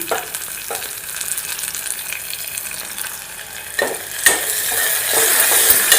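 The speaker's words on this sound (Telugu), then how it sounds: "దీంట్లో కొద్దిగా అల్లం వెల్లిపాయ పేస్ట్ వేస్తున్నాను ఒక నిమిషము ఇది కూడా వేగాలి" Onion frying with ginger-garlic paste and curry leaves in a hot pan, a steady close sizzle with occasional scraping stirs and a brighter crackle building toward the end.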